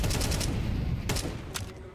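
Rapid gunfire in a Counter-Strike professional match at IEM Krakow involving MOUZ: clustered bursts of sharp shots crackle loudly, then a few separate shots ring out as the exchange thins.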